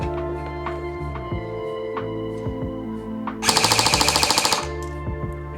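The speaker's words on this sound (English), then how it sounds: "Let's try that with full auto and check that rate of fire" An E&L AK-12 airsoft electric gun on a 7.4 volt battery fires a short full-auto burst of about a second, a rapid, even mechanical rattle of many shots, close and alone after quiet mechanical ticks and hum.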